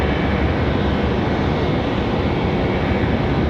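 An airliner departing Raleigh-Durham airport bound for San Juan, Puerto Rico, gives off a steady, broad jet roar that holds at an even level throughout, with no talk.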